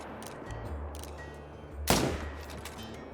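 A single loud gunshot at a red deer in the hunting game theHunter: Call of the Wild cracks sharply near the middle, standing out against a low ambient outdoor bed with no talk.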